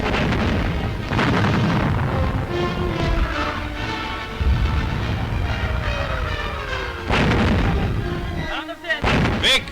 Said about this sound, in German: Feindliche Einschläge, sie gelten unseren Stellungen.